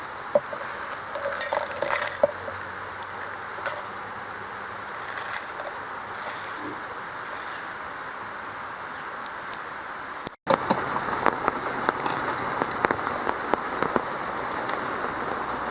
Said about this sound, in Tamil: இதை வந்து ஜாரில் போட்டு ஒன்று பொடி பண்ணி எடுத்துகிட்டு வந்துடலாம்